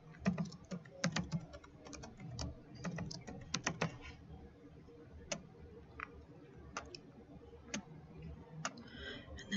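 A computer keyboard is typed on during a Windows 10 setup, with quick, close clusters of soft key clicks followed by sparser, isolated taps.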